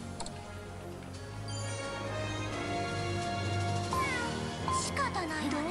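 Cat meowing in the video game Grim Grimoire OnceMore, heard over steady game music and effects, with short rising mewing calls near the end.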